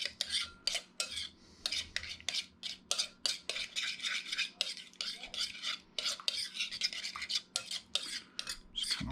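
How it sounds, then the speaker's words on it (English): Metal utensil scraping and clinking in a pan as butter sauce is stirred through frozen vegetables, a steady run of rapid scrapes and taps close by, with no talking. "So just give this a little stir"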